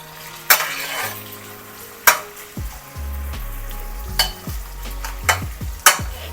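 Fried onions stirred in a pan for mushroom dum biryani, with a spoon scraping and clanking against the metal at irregular intervals over a soft, steady sizzle close by.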